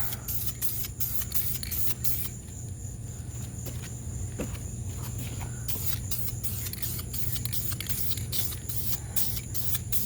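A spray gun hisses clear coat onto car wheel barrels, a Saturn VUE project, in repeated short bursts over a steady background hum, fairly close.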